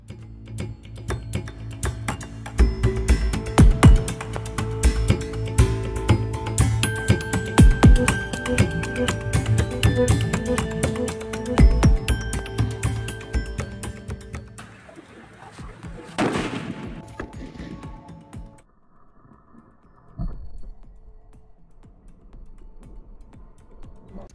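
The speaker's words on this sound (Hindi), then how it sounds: "अब है मेरे पास पॉल्यूशन बम जो कि इसको हाइड्रोबम के नाम कहा जाता है, ठीक है। अब इसको हम फोड़ने वाले देखते हैं इसका साउंड कैसा है" A hydro bomb firecracker goes off during Diwali with a long run of dense crackling pops and sharp bangs for about fifteen seconds. The bursts then thin to a few louder isolated cracks and die away near the end.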